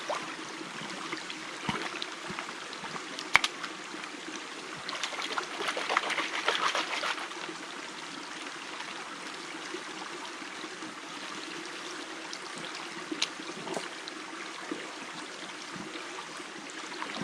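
Gravel being panned in water outdoors, a continuous swishing and trickling wash of water with occasional small splashes and rattles, steady and fairly close, with no voices.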